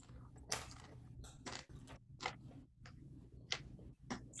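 Crunchy matzah bitten and chewed at a congregational Passover seder: a series of crisp, close crunches in an irregular rhythm, with short quiet gaps between bites.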